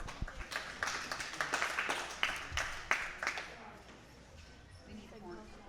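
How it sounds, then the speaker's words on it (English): Applause from a crowd at a junior fair goat show, a spread of claps building and then fading, with some voices mixed in. "Let's hear a large round of applause"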